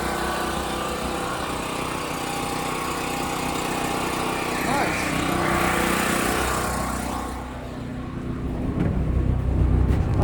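A portable generator runs steadily on a trailer shelf, a loud continuous engine drone with a faint rattle, and the tone shifts slightly partway through.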